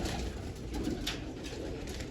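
Pigeons coo softly and steadily among a small backyard flock kept for color-marking, a low continuous murmur with some rustling, no talk.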